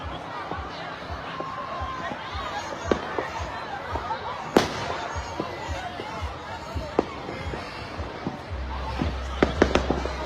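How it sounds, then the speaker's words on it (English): Fireworks are thrown at police during a street confrontation: scattered sharp pops and bangs, some close and loud, burst irregularly over a murmur of crowd voices and shouting. "They throwing fireworks at the police"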